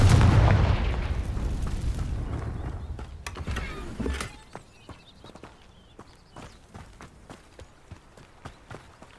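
A Confringo blasting spell from Hogwarts Legacy, cast near a crumbling tower, bursts loud and close, then rumbles down over about four seconds. A faint series of sharp, regular taps follows.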